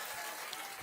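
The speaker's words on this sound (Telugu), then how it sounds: "గట్టిగా చప్పట్లు కొట్టి హర్షాన్ని, ఆమోదాన్ని తెలియజేయాలి" Applause from a crowd at a Praja Galam political rally in Visakhapatnam, a steady dense clapping that fills the brief moment at moderate loudness without breaks.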